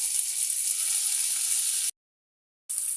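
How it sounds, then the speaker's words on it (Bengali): Onions frying with ginger and garlic paste in a pan for a country chicken bhuna, a loud steady hiss of sizzling oil that cuts out briefly and then resumes. "পেঁয়াজগুলো যখন বেরেস্তার মতো লাল হয়ে যাবে আদা রসুন দিয়ে দিব"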